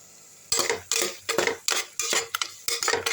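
A spoon scrapes and stirs raw ground tomato paste in a hot pan for egg chukka fry, about seven distinct, close, fairly loud strokes in a steady rhythm with no talking.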